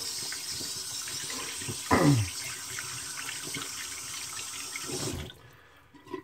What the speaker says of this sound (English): Let me wash my hands off here.